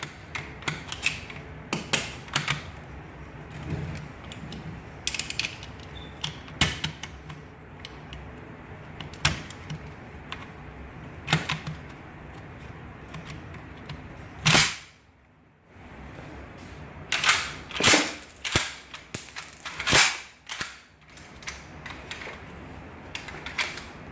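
An M1 Garand rifle's clip locks in with a sharp metallic click, followed by further mechanical clacks and snaps as the clip release is worked, loud and close with short quiet gaps between the impacts.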